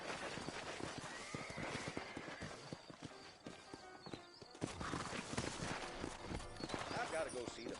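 Horse hooves clip-clopping in the video game Red Dead Redemption, a quick run of close hoofbeats with a whinny, set under a voice and game ambience.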